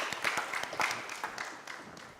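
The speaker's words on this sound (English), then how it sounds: "Clap for David, though." Audience clapping at a business talk on new market trends, a fairly faint, uneven patter of hands from a modest crowd, fading slightly toward the end.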